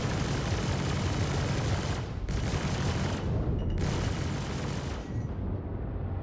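Continuous loud ship weapon fire in the space game Star Citizen, a dense roaring barrage that drops out briefly a few times before resuming.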